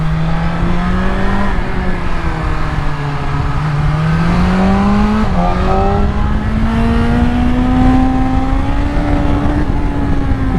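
BMW M 1000 XR motorcycle accelerating hard: a loud, continuous engine note that climbs and dips in pitch through gear changes over about ten seconds, with no talk.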